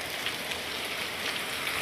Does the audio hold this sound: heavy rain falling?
yes